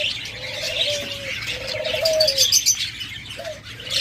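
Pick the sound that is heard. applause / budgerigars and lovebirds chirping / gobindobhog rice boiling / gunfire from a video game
budgerigars and lovebirds chirping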